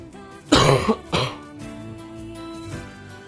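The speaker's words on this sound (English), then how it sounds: "I don't want to cough anymore." A person gives two harsh, close coughs in quick succession, followed by quieter throat noises and faint background sound.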